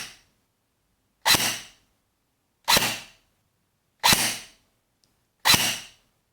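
A Force Core FC-109 M4 airsoft electric gun running on its stock 8.4-volt battery fires four single sharp shots, evenly spaced about a second and a half apart, loud and close against silence.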